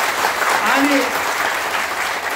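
An audience at a trade union meeting breaks into steady applause, a thick continuous patter of clapping with a speaker's voice briefly heard over it.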